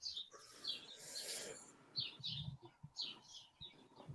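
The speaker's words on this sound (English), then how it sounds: "I love the sound of birds." Faint birds chirp in short, high, repeated bursts at irregular intervals, with soft rustling and low thumps in between. Some distance away, fairly quiet, no voices.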